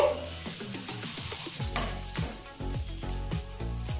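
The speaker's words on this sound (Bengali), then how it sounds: "বাকি শীটগুলো একই রকম ভাবে ভেজে নিচ্ছি" Thin sheets fry in a pan over a low gas flame, a soft steady sizzle broken by rhythmic wooden scraping and stirring strokes, close with no talk.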